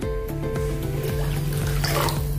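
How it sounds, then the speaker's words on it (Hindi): Water is poured from a mixer jar into a pan of tomato curry, a soft continuous trickle and splash beneath steady kitchen background hum. "और से थोड़ा पानी डालेंगे हम"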